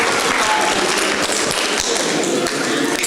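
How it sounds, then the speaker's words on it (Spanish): An audience applauds at a university ceremony, dense and sustained clapping filling the room at a steady loud level. "Un aplauso."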